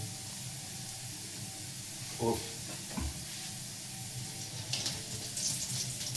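Onions, by now burnt, fry in a pan with a steady soft sizzle and hiss, broken by a few brief stirring scrapes.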